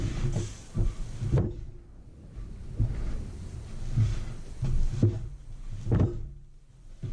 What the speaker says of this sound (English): Elongate your dough, pull it towards yourself and push.